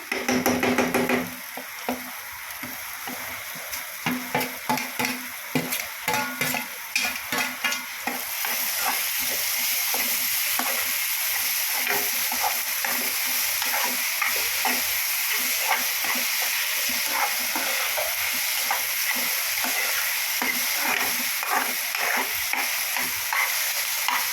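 Browned onion and tomato frying in a pan for a mushroom curry, a steady close sizzle under repeated rhythmic scraping and stirring strokes, with the hiss growing louder partway through and no talking.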